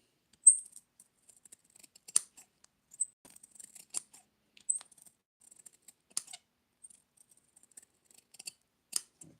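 Carbon fiber race car body part being trimmed, with a run of faint, sharp snips and scratchy cuts scattered irregularly through the quiet, no voices.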